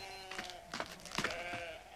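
Sheep bleating on a farm in a French cartoon, several wavering bleats overlapping in quick succession over a steady background hum.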